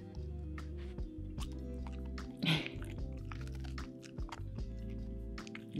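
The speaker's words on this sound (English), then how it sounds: "This is just ASMR, eating a fish." A pet gnawing on a dried fish treat, with close, steady crunchy chewing and biting, wet squishy mouth sounds and one louder crunch partway through, over a faint background hum.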